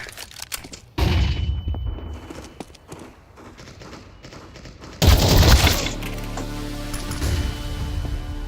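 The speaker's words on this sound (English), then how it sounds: "Flashbang." A flashbang grenade goes off in a shooter video game: a sudden loud burst followed by a sustained high ringing tone, after earlier scattered gunfire and thumps.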